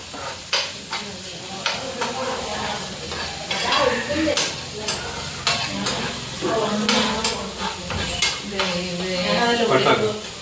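Shallots sauté in a pan, giving a close, busy sizzle mixed with frequent clinks and scrapes of a utensil stirring against the metal, continuing steadily throughout.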